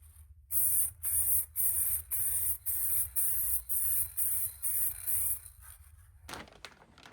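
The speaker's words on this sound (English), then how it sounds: "we're gonna try and keep the spray all in this area right here" An aerosol can sprays paint onto a masked area of a car in about nine short, even bursts, loud and close, each a sharp hiss with brief gaps between, followed by a quiet stretch of handling noise.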